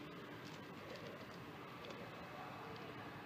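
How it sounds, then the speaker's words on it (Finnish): A train approaches along a railway line, heard as a faint, steady, distant rumble that carries on without a break, with soft bird cooing mixed in. "Täällä tulee joku juna."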